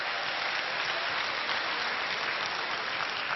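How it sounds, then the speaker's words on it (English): An audience at a Caribbean comedy show applauds, a steady, even wash of many hands clapping throughout, somewhat distant and without voices. "let me get a round of applause for Kings County Hospital."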